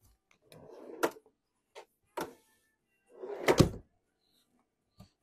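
Storage drawers beneath a sofa inside a 2000 Marathon Prevost H3-45 coach slide and bump open, a few short wooden rumbles and thumps heard close by in a quiet interior.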